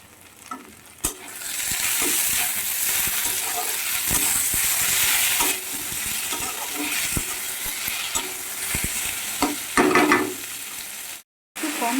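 Curry sautéed in a pan with little oil and a splash of water gives a steady, close sizzle, broken by repeated scraping strokes of a stirring spoon and a brief pause near the end.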